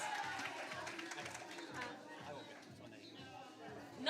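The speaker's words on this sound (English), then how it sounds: "Come on, clap it up for Albert for his 7 years." A congregation at a Sunday morning church worship service applauds for a long-serving member, the claps strongest at first and then thinning into a murmur of crowd chatter, over a steady rhythmic low thump underneath.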